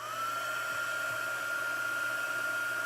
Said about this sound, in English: now I'm going to get out my heat gun and just hold on a minute because this is going to make a little noise